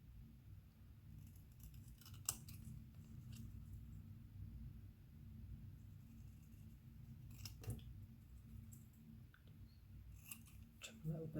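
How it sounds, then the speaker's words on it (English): Scissors trimming with repeated close snips and crisp cutting sounds over a steady low hum, continuing throughout with a few sharper snips. "Trim a little bit more of that off."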